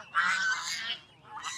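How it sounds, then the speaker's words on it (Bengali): Ducks or geese in a flock give loud, overlapping honking calls that fill most of the short moment, dip briefly, then rise again near the end, heard close and without talk. "দেখেন হাঁস কি পরিমাণ।"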